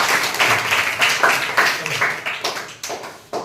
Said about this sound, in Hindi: इनके लिए तालियां बजा दो पहले।